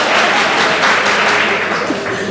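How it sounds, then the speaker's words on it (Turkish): Studio audience applauding on a televised debate show, a dense, steady wash of clapping that holds loud and unbroken throughout. "Ya bırakın alkışlasınlar"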